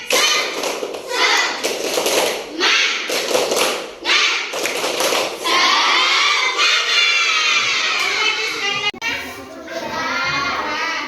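Schoolchildren in a classroom stand and perform the tepuk semangat clapping chant, loud rhythmic bursts of group clapping alternating with children's voices chanting together, close and lively.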